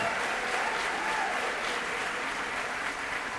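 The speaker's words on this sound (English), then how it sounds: "let's cheer them on" Crowd at an employee service day event claps in steady, close applause that holds evenly throughout, with faint cheering mixed in.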